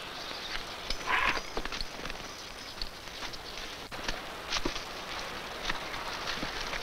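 A horse walks in an old Western film, its hooves clip-clopping in a fairly quick, irregular rhythm over a steady background hiss, with no speech.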